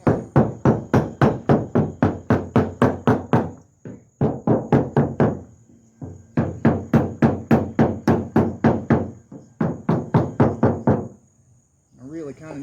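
Rapid hammer blows tapping out dents in a caved-in car roof, steady bursts of close metallic knocks in rhythmic runs separated by short pauses.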